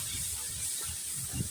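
Pumpkin roasting in semolina for halwa in a pan, a steady soft sizzle and hiss with faint low stirring scrapes, close and continuous with no talk.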